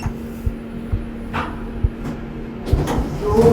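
Otis lift doors in a Bristol shopping centre sliding shut, a soft mechanical rumble and thud over a steady machinery hum, with light knocks and clicks spread across a few seconds and a louder closing sound at the end.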